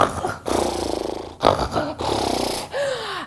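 A voice imitates loud snoring: long rumbling, rattling snores in three heavy breaths, close and loud, ending with a rising squeaky whistle.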